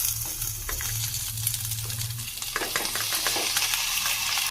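Drumstick leaves being stirred into onions frying in a pan for nugge soppina upsaaru, a steady close sizzle broken by repeated scraping strokes of a spoon, louder in the second half, with no talking.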